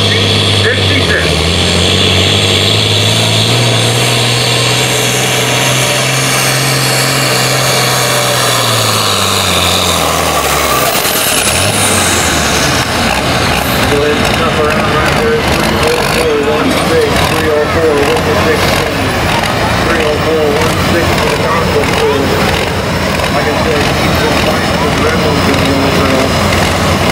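An International 1466 tractor with a five-cylinder setup roars loudly through a full pull at a farm stock truck and tractor pull, its engine note sweeping up and down before turning into a harsh, sustained high-revving drone, with a crowd and announcer beneath.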